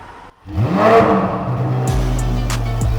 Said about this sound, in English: Super excited to hear how this thing's gonna sound.